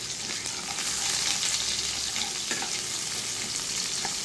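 Chopped onions, three of them, frying in a pan for a prawn and jute greens dish, a steady dense sizzle close by with occasional stirring scrapes and no one talking.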